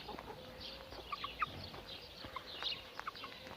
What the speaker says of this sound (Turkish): Ayşe teyzemizin tavukları da buradalar.